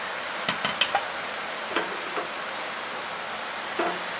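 Sweet sugared batter poured into a hot oiled frying pan for patishapta pitha, giving a steady soft sizzle with a few sharp clicks and scrapes near the start, no talking.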